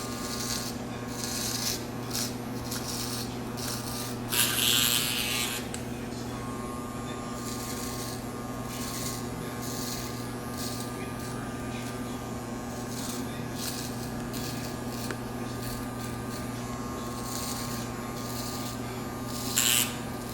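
Electric hair clippers trim a curly beard, a steady low motor hum running throughout with a short louder burst of cutting partway in, heard fairly close with no talking.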